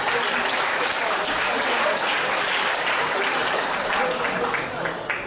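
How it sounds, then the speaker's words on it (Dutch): An arena crowd applauds two fighters after a darts match between Joep Rutten and Williams Donkor, loud sustained clapping that stays even throughout and tapers slightly at the very end. "een applaus voor deze twee kanjers"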